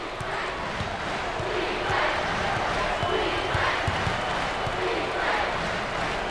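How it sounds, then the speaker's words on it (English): A packed college basketball arena crowd at an NCAA tournament game between Duquesne and BYU roars in a dense, continuous wash, swelling slightly midway, with ball bounces and talk mixed underneath. "Full house and a packed crowd, and they are into it tonight."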